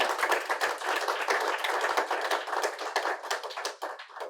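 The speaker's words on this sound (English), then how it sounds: "one more round of applause." Audience at a student showcase symposium claps in a steady, dense round of applause that thins slightly toward the end, no voices over it.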